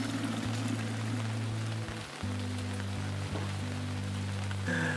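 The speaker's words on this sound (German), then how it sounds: "Immerhin regnet's." Steady rain patters and hisses across a surface, a dense even wash of drops, with low droning tones underneath.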